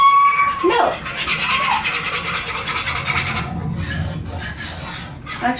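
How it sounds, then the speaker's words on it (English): A whisk scrapes and rubs rhythmically against a pan while a sauce is stirred smooth, close and steady throughout. "we're just gonna whisk this until it both smooths out and thickens up"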